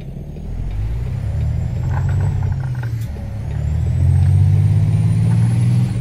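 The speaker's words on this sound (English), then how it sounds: "let me know about the volume of the truck" Truck engine in American Truck Simulator during a frosty winter drive, a loud steady low rumble that swells and drops with throttle, carrying a faint whine and a brief hiss near the middle, with no voices.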